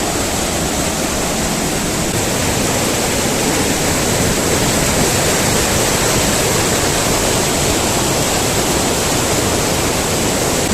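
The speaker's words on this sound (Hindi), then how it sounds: "आप देख सकते हैं ऊपर से ये सुंदर सा झरना आ रहा है।" Mandakini waterfall near Dharali cascading from above, a loud, steady broadband roar of rushing water that fills the whole span without pause and with no voices.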